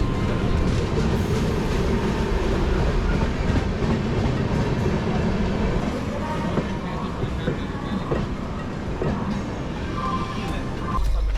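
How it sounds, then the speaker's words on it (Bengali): A passenger train from Kolkata to Varanasi running at speed makes a loud, continuous rumble and rattle throughout, with faint clacking from the wheels on the rails. "যদি ট্রেনটা ভালো স্পিডে থাকে"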